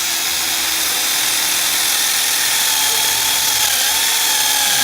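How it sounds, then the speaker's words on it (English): A power drill drives a bit into a wooden 2x8 workbench, its motor whining loudly and continuously throughout with a slight rise in pitch, close up and with no talk. "We've got the bit on the driver, okay, on the drill."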